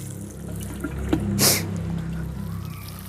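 Plain water poured onto dry soil in a kale bed, a soft splashing pour with a brief louder gush midway, close and alone.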